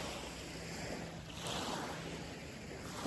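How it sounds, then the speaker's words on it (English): Water of Lake Tahoe lapping and washing steadily along the shore, a continuous soft surf-like wash with some wind noise, no voices. "you can hear the water in the lake"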